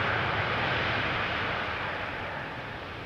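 A Boeing 777 airliner arrives at Schiphol's Polderbaan, and its engines make a broad, steady roar that fades slightly as it passes at a distance.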